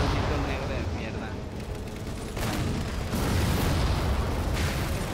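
Halo 4 gunfire, a dense continuous rattle of shots and bursts with sharp cracks, loud and sustained.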